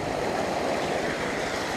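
Vehicle splashing through a wild creek crossing on a mountain route toward the Kirwin ghost town, a steady loud rush of churning water and surf-like roar filling the whole moment, with no voices.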